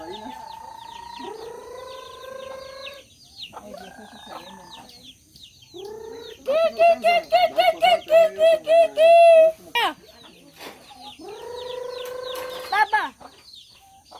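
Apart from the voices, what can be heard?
chickens clucking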